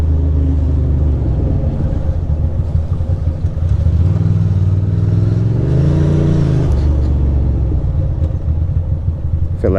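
City traffic on the way to the BQE between Queens and Brooklyn, with cars rumbling and an engine revving up close in a continuous loud drone.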